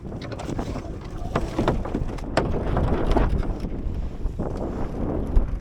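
Gusty wind rushes and buffets across the microphone aboard a Drascombe Lugger under sail, with water sloshing against the hull in a steady, fluctuating roar and no talk.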